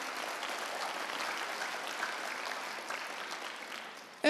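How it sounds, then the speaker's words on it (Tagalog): A church congregation claps together, a soft, distant, even patter of hands that fades slightly toward the end before a brief sharp sound cuts in. "Lakasan niyo yung palakpak niyo."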